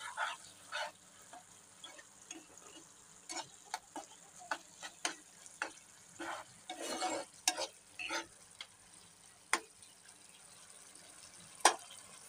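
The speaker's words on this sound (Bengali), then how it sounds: "এখন ঢাকনাটা খুলে একটু নেড়েচেড়ে দিই।" Food stirred in a frying pan once the lid is off, sparse scraping and clinking strokes of a utensil against the pan at irregular intervals over a faint sizzle, with a few sharper knocks.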